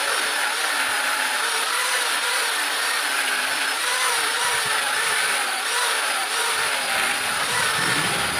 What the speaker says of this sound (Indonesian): amplas gerinda.